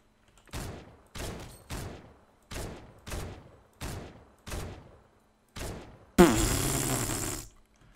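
Eight loud single gunshots from a new thermal-scope weapon in Fortnite, fired at a steady pace about half a second apart, then a sustained blast-like roar for about a second at the end, with no voices.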